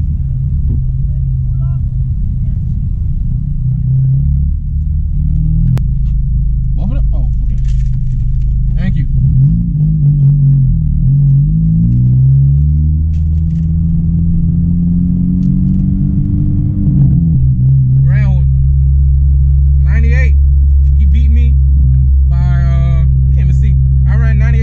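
A 9th-generation Honda Civic Si engine, running hot at a drag strip, idles and drones loudly in the cabin, its pitch rising and falling as it revs, while people talk over it.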